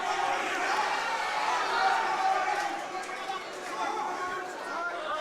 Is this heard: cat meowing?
no